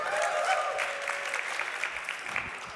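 A crowd at a talk applauds in a steady, dense wash of clapping that lasts throughout, fairly close and even, gradually thinning slightly toward the end.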